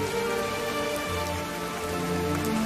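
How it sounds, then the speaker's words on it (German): Steady rain falls outdoors in a drama scene, a dense, even patter on surfaces that holds constant throughout with no other sounds. "Aber es regnet."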